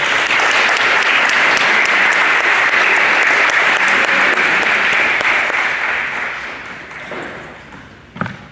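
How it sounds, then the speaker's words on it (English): Audience applause at a high school NJROTC change of command ceremony: a full, steady burst of clapping that gradually thins and fades, with a few last claps at the close. "Please give them all a round of applause."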